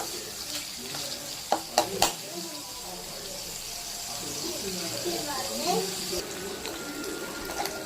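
Curry leaf chutney ingredients sautéing in a pan for a homemade dinner, a soft steady frying hiss with a few sharp clatters of a spoon near the start, with someone talking over it.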